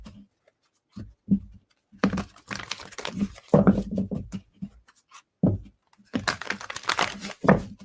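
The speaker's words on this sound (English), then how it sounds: "So I'm shuffling that deck before we go into our meditation." Repeated bursts of papery riffling and crinkling, a deck of cards being shuffled close by in several quick runs with short pauses between.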